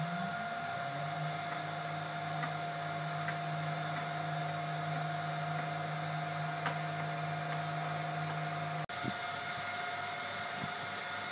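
Stepper motors on a converted Titan TM20LV CNC mill whine steadily as the axis jogs, a tonal hum over a quiet background that stops abruptly near the end, followed by faint mechanical clicks.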